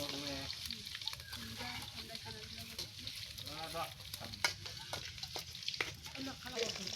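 Eggs frying in oil in a home kitchen, a soft, continuous sizzle with small crackles and occasional sharper pops, fairly quiet and steady throughout.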